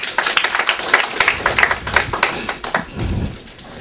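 An audience claps at a political party gathering in New York, with dense, steady applause from a crowd in a hall that thins out and fades after a few seconds.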